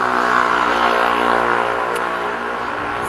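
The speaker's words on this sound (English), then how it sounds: "Very noisy motorcycle." A loud, steady engine roar fills the whole stretch, droning without a break like a noisy motorcycle running close by.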